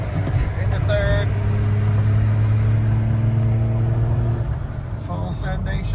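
A Fiat Panda hybrid with a manual gearbox pulls hard on an Italian road, its engine droning loudly and steadily from inside the cabin, with a brief dip as a quick gear change goes into third and someone talking over it.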